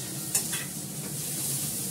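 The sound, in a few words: tomato and carrot added to pan of frying onions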